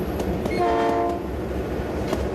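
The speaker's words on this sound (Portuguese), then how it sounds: "o trem passa, mas vem trazendo carga e não para" A freight train passes through a station in Cordeirópolis, São Paulo, without stopping, with a loud steady rumble of rolling cars and a brief horn note sounding over it.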